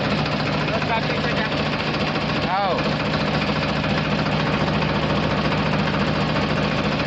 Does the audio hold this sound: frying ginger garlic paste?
no